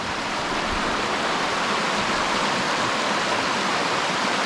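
Steady, loud rushing of the fast-flowing Nile River from a bridge, a continuous broadband roar with no pauses and no voices.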